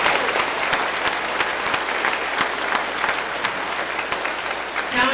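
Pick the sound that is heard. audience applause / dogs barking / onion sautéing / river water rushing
audience applause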